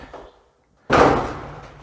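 A dryer door is shut with a single sharp thud near the middle, followed by a short decaying rumble, close by and alone after a brief silence.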